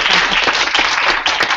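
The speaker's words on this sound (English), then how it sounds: "A round of applause," Short burst of audience applause at a workshop, dense close clapping lasting just over a second.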